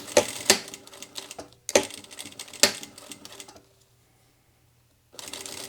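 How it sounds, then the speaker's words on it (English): A sewing machine top-stitches along zipper tape in short bursts of rapid clatter, three runs separated by pauses, then a stretch of silence before stitching resumes. "we're going to do the top stitching just like we did last time"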